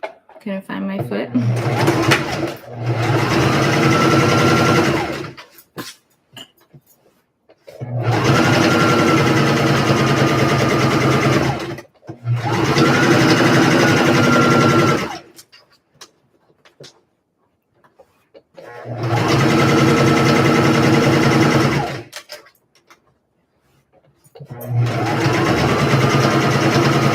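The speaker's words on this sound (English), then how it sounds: "let's top stitch." A sewing machine top stitching a vest runs in several steady bursts of a few seconds each, separated by short pauses, loud and close, with a voice speaking in places.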